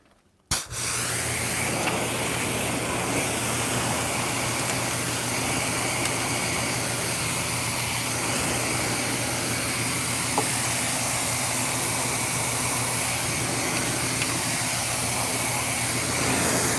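A pressure washer or hose sprays water steadily to rinse out car floor mats, a loud continuous hiss that starts abruptly and runs without a break, with a low motor hum underneath.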